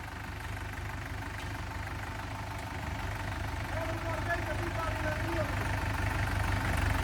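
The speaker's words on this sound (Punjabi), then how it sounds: "ਟਰੈਕਟਰ ਸਟਾਰਟ ਕਰਕੇ ਇੱਧਰ ਲਾ ਦੋ" A farm tractor's diesel engine idles with a steady, loud low rumble and a knocking throb that holds for the whole stretch and grows slightly stronger toward the end, with faint voices in the background.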